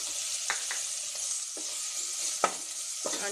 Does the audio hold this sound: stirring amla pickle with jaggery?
yes